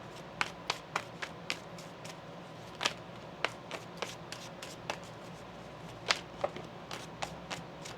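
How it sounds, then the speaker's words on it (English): Tarot cards being shuffled by hand, a run of sharp, quick riffling snaps and soft slaps scattered irregularly over a low room hum, fairly close and moderately quiet, with no talking. "One more shuffle here."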